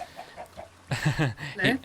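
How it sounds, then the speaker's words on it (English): A chicken in a Minecraft-style game world clucks in a few short, soft calls, the last ones louder and closer, with no talking over them. "say hello to the bridge chicken while you're here"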